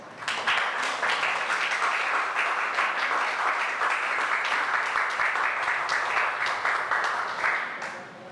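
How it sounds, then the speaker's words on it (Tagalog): A church congregation claps together for Jesus during a Sunday service, a dense sustained applause filling the room for about eight seconds before tapering off at the end. "Palakpakan natin si Jesus."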